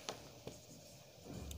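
Chalk or marker scratches across a board while a maths solution is written out, a faint, soft rasping with a few sharper taps, quiet and close.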